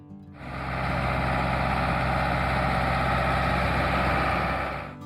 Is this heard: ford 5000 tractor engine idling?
yes